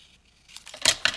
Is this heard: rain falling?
no